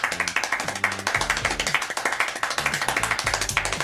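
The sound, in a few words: very fast hand clapping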